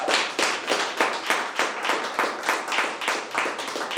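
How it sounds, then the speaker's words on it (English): Audience applause for Cynthia at a December poetry gathering, a steady burst of many hands clapping together, dense and continuous at close range with no talk over it. "we need to give Cynthia a round of applause,"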